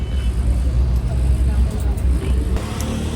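A jeepney engine rumbles low and steady amid road traffic, a loud, continuous drone with passing vehicle noise throughout.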